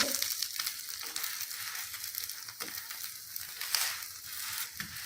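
A fasting-style uttapam cooks in ghee on a pan, giving a soft, crackling sizzle that rises and falls in small bursts, quiet and close, with no one talking.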